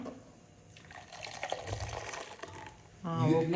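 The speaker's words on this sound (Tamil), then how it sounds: "இந்த பாலை இதிலே ஊற்றிடலாம்" Milk pours into a vessel during a home Varalakshmi puja, a soft liquid splash and trickle that swells into a louder, fuller filling sound near the end, close by.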